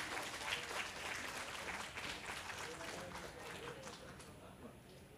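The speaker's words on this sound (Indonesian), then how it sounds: "Sekali lagi boleh beri tepuk tangan yang meriah Bapak Ibu." Audience applause at an Institut Teknologi Sepuluh Nopember commemorative ceremony, a steady dense wash of clapping held for about five seconds, with voices mixed into the crowd noise.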